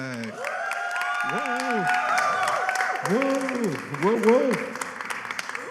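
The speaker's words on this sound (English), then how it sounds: "can we give a round of applause for Ms. Hope Wallensack?" An evening panel audience in Atlanta applauds and cheers as the first panelist is introduced, clapping running throughout beneath loud tonal music and a few excited exclamations.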